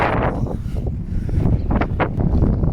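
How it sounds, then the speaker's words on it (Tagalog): Strong gusty wind in a park buffets the microphone in a loud, constant roar with rustling surges. "Lakas ng hangin. Grabe."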